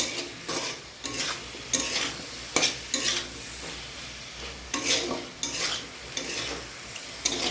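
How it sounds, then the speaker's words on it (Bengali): Vegetables with bitter gourd, coated in salt and turmeric, are stirred in hot oil, with rhythmic scraping strokes of a spatula against the pan above a constant sizzle and no talk. "এবার আমি এটাকে একটু নাড়াচাড়া করব, তাহলে তেলের সঙ্গে নুন হলুদের সঙ্গে পুরো মিশে যাবে সবজিটা"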